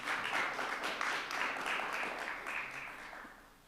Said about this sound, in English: A big round of applause for the AV team.